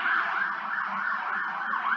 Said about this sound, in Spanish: esperen que está pasando una ambulancia